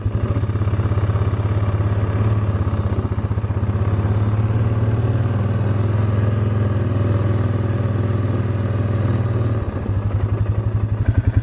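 ATV engine running steadily while riding out to do work, a loud continuous mid-pitched drone with a slight dip near the end, no talking.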